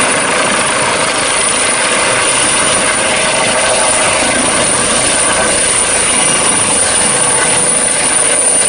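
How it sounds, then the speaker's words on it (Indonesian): A fire department helicopter gives a loud, steady rotor-and-engine roar that holds unbroken for the whole stretch, close and constant, with no voices. "wah kita menemukan helikopter dari pemadam kebakaran."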